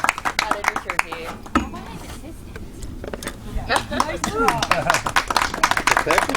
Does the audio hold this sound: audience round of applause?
yes